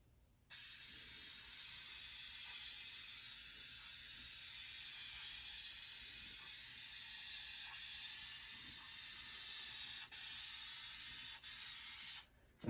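Clear coat paint is sprayed onto a repaired car dent: a steady, close hiss starts abruptly, holds evenly for about twelve seconds with a couple of tiny breaks, then cuts off sharply.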